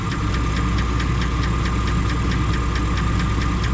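A car engine idles steadily with the air conditioning running at maximum, a constant dense hum with a faint rhythmic knock and vibration throughout.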